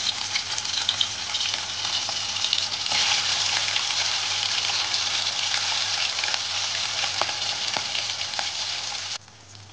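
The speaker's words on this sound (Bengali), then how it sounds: "এবার আমি তেলের মধ্যে মাছগুলোকে দিয়ে দেবো একটা একটা করে" Fish frying in hot mustard oil, a dense crackling sizzle with popping spatters that holds steady and close for most of the clip before dropping away near the end, no talk.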